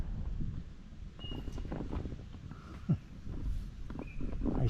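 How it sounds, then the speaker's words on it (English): Gusty wind buffets the microphone while kayaking on Tuscarora Lake in northeastern Pennsylvania, a rough, fluctuating rumble with faint water sloshing and paddle sounds beneath it. "Each time we get a gust, waves get bigger."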